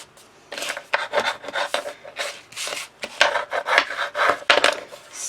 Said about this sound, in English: just give it a little burnish